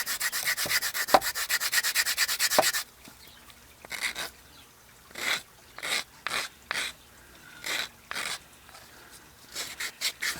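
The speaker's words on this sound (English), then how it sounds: "Next we'll take off some of the burrs." Burrs are rubbed off a small wooden circle cut on a router table. A fast, steady stretch of scratchy rasping comes first, then a series of short, separate rubbing strokes, close and alone.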